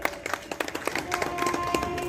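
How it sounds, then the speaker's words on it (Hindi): Audience applause at a Republic Day celebration held by a minority and Bahujan welfare association, a short burst of scattered, uneven clapping at moderate distance with a faint voice behind it. "एक बार जोरदार तालियां।"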